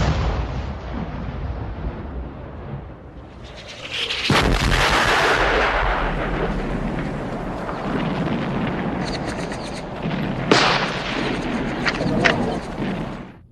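Heavy First World War artillery blasts from a 40-pounder boom and rumble, with a large explosion followed by rolling roar and a second sharp burst later on.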